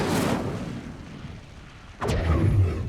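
Incendio fire spell cast on a pyre in the video game Hogwarts Legacy, heard as a loud whooshing burst of flame that roars on for about a second after a fading earlier blaze.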